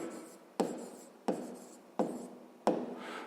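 Pen strokes on paper jot down a maths expression, four evenly spaced scratchy bursts, each opening with a sharp tap, close-up and soft.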